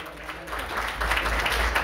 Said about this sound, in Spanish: a quien le pedimos un fuerte aplauso